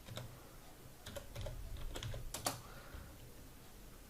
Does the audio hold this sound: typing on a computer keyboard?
yes